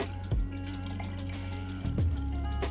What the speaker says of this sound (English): I've got the most amateurish pour possible on earth over here